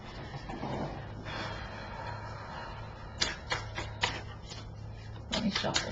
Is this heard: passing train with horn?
no